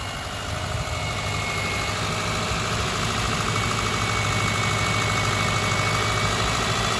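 A 2009 Subaru Forester idles steadily with its heater blower running at full blast, a constant low engine hum and rushing fan noise at an even level, nearby and unbroken, with no speech.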